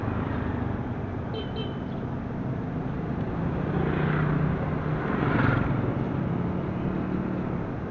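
Steady street traffic in Bukittinggi, West Sumatra, with many motorcycles, engines droning and passing vehicles swelling and fading.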